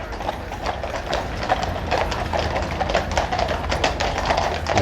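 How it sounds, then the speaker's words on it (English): Horse Guards' hooves clip-clop steadily on the road in Hyde Park, London, a continuous close, fairly loud rhythm of many overlapping hoof strikes over ambient outdoor noise. "here we have the horse guards coming in"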